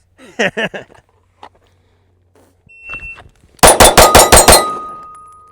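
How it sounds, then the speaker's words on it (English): A Canik METE MC9 Prime pistol fires a fast string of about six loud, sharp shots near the end, preceded by a few scattered shots or clacks and brief quiet gaps, with a ringing tail after the final round. "that first shot was just a little low, but everything else felt great"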